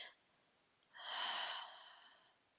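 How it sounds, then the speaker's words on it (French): A slow, deep exhalation during yoga breathing, a soft airy breath rising at about one second and fading over the next second, quiet and close, after a brief breath sound at the start. "On inspire le plus possible. On remplit entièrement nos poumons. Et on expire."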